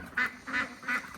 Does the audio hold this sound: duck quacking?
yes